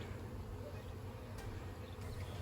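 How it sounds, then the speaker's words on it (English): Honeybees hum on a heavily covered beehive frame during a hive inspection, a faint, steady buzzing drone held close throughout. "Ooh, that's getting heavy with bees."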